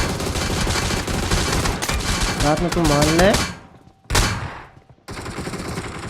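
Firecrackers burst at night in a dense, loud crackling barrage, with a voice speaking over the popping before it cuts off and resumes.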